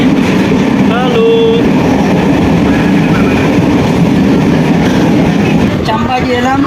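Inside a moving passenger train, a constant loud rumble of wheels on rails fills the space, with brief squeals and voices heard over the steady rolling noise.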